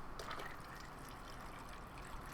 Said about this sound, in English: the water from the top is going to go down, but it's also going to make a fountain effect coming out of the top